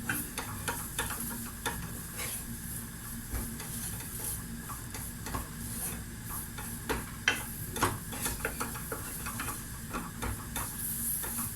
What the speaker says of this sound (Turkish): Bunun kokusu çıkana kadar kavuracağım.